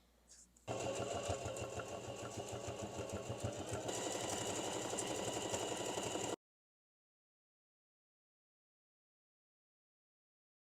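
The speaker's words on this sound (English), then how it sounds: "Since I have a stretchy fabric, you're going to see that I'm doing a zigzag stitch." Sewing machine running a zigzag stitch on stretchy fabric, a steady mechanical whirring with rapid rhythmic needle clatter for about six seconds after a brief start, then silence.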